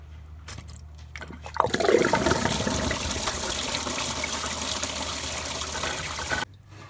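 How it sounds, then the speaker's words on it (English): Coolant pouring out of a VW Transporter T5 1.9 TDI engine during a timing belt and water pump job, a sudden gush that settles into a steady close splashing stream, then cuts off abruptly. "You can be prepared with something under the car, so the coolant fluid is not gonna drip everywhere."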